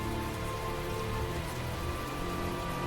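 Rain falling in the video game Tales of Zestiria, a dense, steady patter of drops on surfaces, constant and fairly loud with no pauses.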